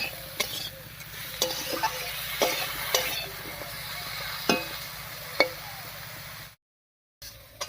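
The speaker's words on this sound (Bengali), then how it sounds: "আলুর সঙ্গে বেগুনটাকে এবার একটুখানি ভেজে দিন" Eggplant and potato frying together in a pan, a quiet steady sizzle punctuated by several sharp clinks of a spatula stirring, briefly cutting to silence near the end.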